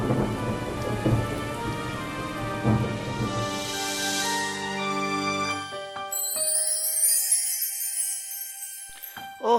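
Steady rain pours down with thunder rumbling through a storm, heavy and close at first and then easing toward a thinner patter with tinkling drips.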